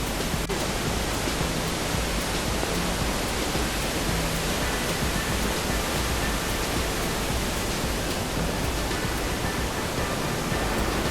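Edralin Falls in Kasibu, a waterfall cascading down a mountainside, gives off a steady, dense roar of rushing water that holds constant and loud throughout, with no voices.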